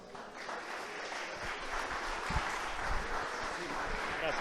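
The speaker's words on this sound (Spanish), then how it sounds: "Dele más fuerte el aplauso al Señor." Church congregation applauding during a Spanish-language sermon at a conference, a steady wash of clapping with murmured voices mixed in, fairly even throughout.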